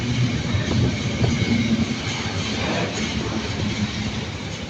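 A train rumbles steadily through Milton Keynes Central station as it slows, its loud, close wheel and engine noise continuous with soft clickety-clack and a hint of wheel squeal.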